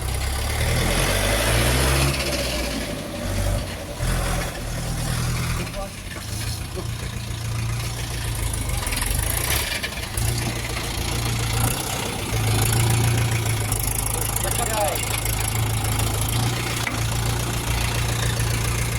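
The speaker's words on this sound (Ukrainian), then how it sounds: "Іде от грузочка Ловола 354 з реверсом." A Lovol 354 tractor with a reverser and a KM engine idles nearby, a steady low rumbling throb that runs throughout while someone talks over it.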